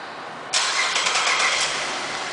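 A 2010 Buick Enclave CXL engine fires up by remote start, with an abrupt catch about half a second in that settles into a steady, fairly loud running rumble.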